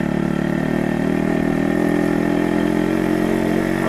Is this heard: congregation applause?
no